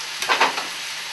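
Garlic dropped into a hot pan with green peppers and onions, giving a short burst of sharp sizzling with a few stirring scrapes, close and loud, then settling into a steady hiss.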